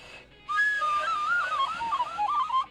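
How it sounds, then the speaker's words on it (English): A handmade whistle blown into from one side gives a breathy, wavering tone that bends up and down in pitch for about two seconds, close and fairly loud, then stops abruptly. "Blow into one side, and let's just see if the whistle works."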